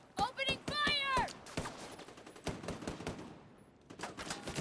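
Scattered gunfire from computer-controlled soldiers in a video game, sharp shots in uneven bursts mixed with other game effects and a few brief tonal blips, moderately loud and fairly close.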